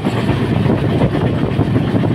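Padatik Express rolling steadily on rails at speed, a dense, loud rumble with quick clickety-clack beats running throughout, heard from inside the train.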